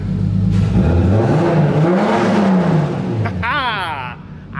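A Volkswagen MK7 GTI fitted with a big turbo runs loud and close, its engine note swelling and falling through a long rev before easing off, ending in a sharp whistling sweep.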